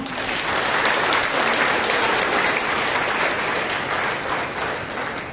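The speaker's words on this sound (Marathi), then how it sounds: "प्रभूला आपण टाळ्या वाजवूया" A church congregation at a Friday prayer service claps together for the Lord, a loud, dense, sustained applause that holds steady for several seconds before easing slightly, with no speech.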